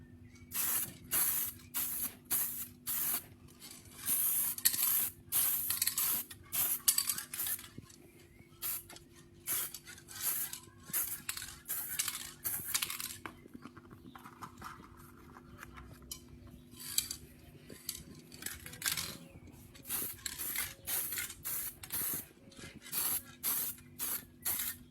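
Spray can hissing in repeated short bursts as a gun magazine is coated in metallic paint, the bursts close and fairly loud over a steady low background hum, with no talking.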